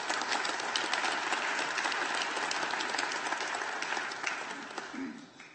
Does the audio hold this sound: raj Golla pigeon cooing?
no